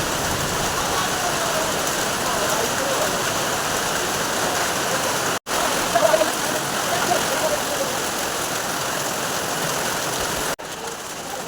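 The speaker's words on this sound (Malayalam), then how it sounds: "നല്ല കുട്ടി പെയ്യുന്ന മഴ കേട്ടോ കാറ്റുമുണ്ട്" Heavy evening rain driven by wind makes a loud, unbroken roar close by, cut off briefly twice before carrying on steadily.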